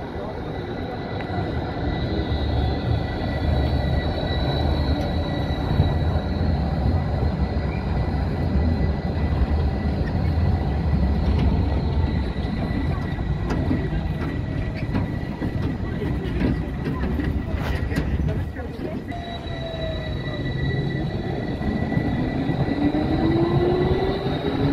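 An M8D tram on Bielefeld line 1 rumbles past with a steady, loud rolling drone and a high whine that fades and returns, while a voice speaks over it.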